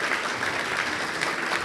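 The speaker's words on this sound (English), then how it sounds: "Kamran, Elahian, please give him a round of applause." A conference audience claps in a sustained, dense round of applause, evenly spread and moderately loud, with no voices standing out.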